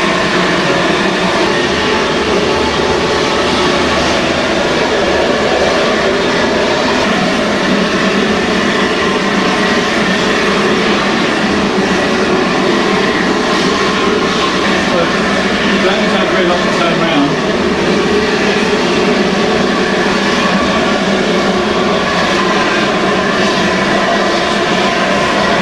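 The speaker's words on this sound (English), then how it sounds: "we're just awaiting now for the departure of Mr. Hovercraft" An SRN4 hovercraft, the Princess Margaret, departs Dover with a loud, steady engine and fan roar that stays constant throughout.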